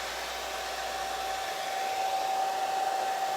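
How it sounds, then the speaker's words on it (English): Hair dryer set to heat blowing a steady, loud stream of hot air to dry water-based paint on a craft Christmas tree, a constant whoosh with a sustained whine, no voices. "The trick to a blow dryer is it's not the air,"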